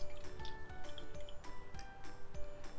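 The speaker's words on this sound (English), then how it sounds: "So I'm going to fill up every other cup with water." Water trickles and drips into a cup in a children's science experiment, with soft repeated ticking drops and light splashes close by, no talking.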